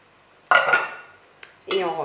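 Coconut milk poured into a salad bowl and mixed for a birthday cake batter, heard as a clattering burst of utensil against bowl, a brief clink, then another run of scraping and stirring, close and fairly loud.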